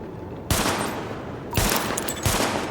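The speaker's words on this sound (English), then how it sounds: "Weapon test initialized. Open fire at the highlighted targets." Gunfire at highlighted targets on a weapon-test range in the video game The Division, with three loud bursts of shots, each followed by a short decaying tail.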